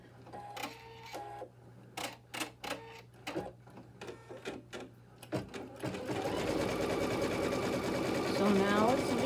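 An embroidery sewing machine stitches the placement outline for a gnome table topper, its needle running in quick rhythmic bursts and pauses before settling into a continuous, louder whirring hum.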